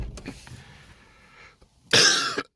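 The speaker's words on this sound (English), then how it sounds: "still trying to get rid of this rattly cough" A couple of short throat-clearing sounds, then a single harsh, rattly cough near the end, close and loud.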